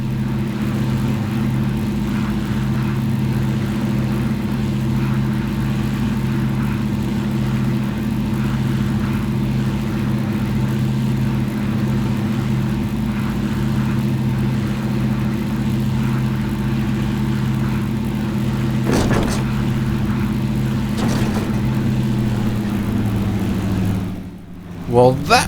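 A P-40 Warhawk's piston aircraft engine drones steadily in the BlueSky flight simulator game during a landing, a loud, even low hum that shifts slightly near the end before a couple of sharp bumps.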